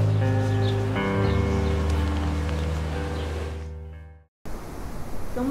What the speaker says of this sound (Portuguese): Ó, a ventania lá fora